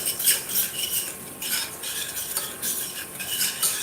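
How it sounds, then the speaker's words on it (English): A spoon stirs Ghana jollof rice with green peas and carrots in a pot, giving close, steady scraping and clinking that continues throughout with no talk. "So I'm going to stir it."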